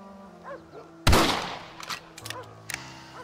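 A rifle shot booms in the Western video game Red Dead Redemption, one loud sharp blast that rings out and decays, followed by a few fainter distant cracks.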